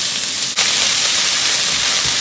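Garlic sizzles in hot oil in an old pan while stir-fried crab glass noodles are being made, a loud, steady hiss with a brief dip near the start, no voices.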